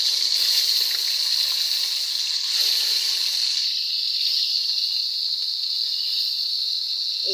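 Fish pieces fried in hot oil for a tomato curry, a loud continuous hissing sizzle that holds steady throughout, close and without speech.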